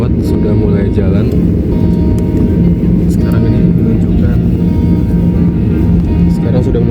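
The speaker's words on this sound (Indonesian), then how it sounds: "pesawat sudah mulai jalan." Loud, continuous low rumble from inside a passenger airplane taxiing at Soekarno-Hatta airport, with muffled voices underneath.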